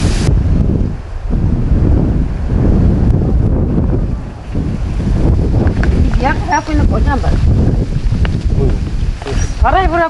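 Strong gusty wind roars by the sea on a coastal island village where women dive for seafood, buffeting the microphone continuously with surf beneath and brief faint chirps near the end.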